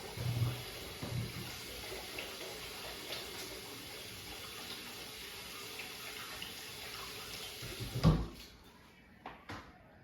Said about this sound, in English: So let me wash my hands one more time.